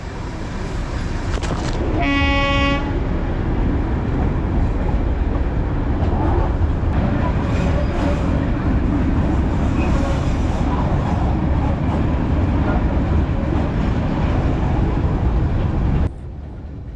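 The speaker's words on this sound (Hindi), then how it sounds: "ट्रेन पीछे आकर रुक गई, अब इसी ट्रैक पर आगे जाएगी।" Darjeeling toy train rolling along its mountain track, with a short horn toot near the start and then a steady, loud rumble and clatter of the moving carriages that continues until the sound drops at the end; a voice may be faintly present.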